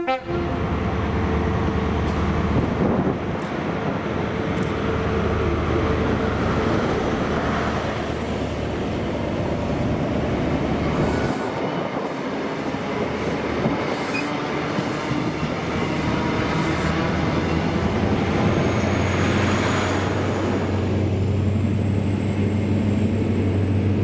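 Diesel locomotive 40 175 leads a Glasgow Queen Street to Inverness train through Stirling station in Scotland, with a sustained rumbling of wheels and engine, rhythmic clatter of wagons, and horn toots rising over the steady roar.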